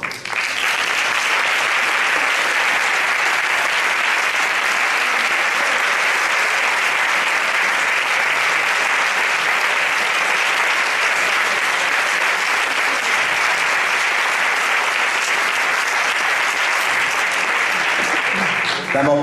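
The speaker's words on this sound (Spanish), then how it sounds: "para que le brindemos un fuerte aplauso" Audience at a flamenco singing contest final in Leganés gives a loud, sustained round of applause welcoming a guest to the stage, steady and dense throughout.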